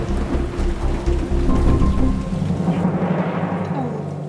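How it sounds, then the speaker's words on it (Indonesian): Heavy rain with thunder, a loud steady hiss of downpour with deep rumbling thunder underneath, the roar thinning toward the end. "Gua hujan-hujanan aja jalan kaki."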